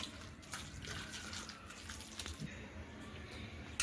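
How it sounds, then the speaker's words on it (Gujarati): Water is poured little by little into a chickpea flour batter for pudla and stirred in, giving a steady wet swishing and trickling that runs on close and without a break. "આ રીતે આપણે થોડું થોડું પાણી એડ કરતા જશું ને સરસ રીતે મિક્સ કરી લઈશું"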